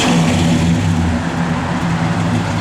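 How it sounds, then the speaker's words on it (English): The engine of a 1965 Chevrolet Impala SS convertible runs at a steady, close idle with a deep, even rumble throughout and no talk over it. "Car's got good sound to it."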